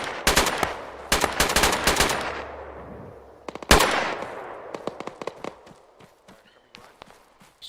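Automatic gunfire from a player's weapon in an online shooter game, several loud rapid bursts with sharp single shots and footsteps trailing off between them.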